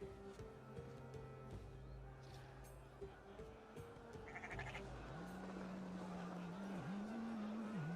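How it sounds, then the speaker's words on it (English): Sheep bleating in the video game Assassin's Creed Valhalla, a few wavering bleats over a steady low hum of game ambience, with a voice speaking partway through. "Yes, hello sheep."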